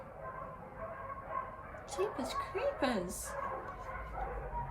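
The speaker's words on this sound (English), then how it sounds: "Sorry, all the dogs are barking if you can hear that." A pack of stray dogs and a German Shepherd barking and yipping outdoors in a town square, a burst of several mid-distance barks and whimpers while someone talks over them.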